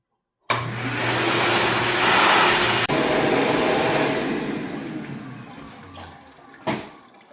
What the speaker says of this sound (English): So here we go, we're gonna blow air through it.